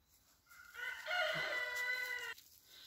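A rooster crows once, a loud drawn-out cock-a-doodle-doo close by, with quiet surroundings before and after.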